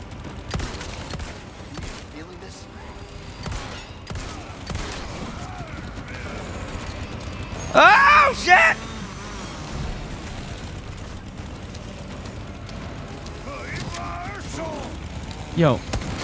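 Gunfire in the Resident Evil 4 Remake video game, a short loud burst of shots around the middle with another sharp report near the end, amid game noise and excited talk.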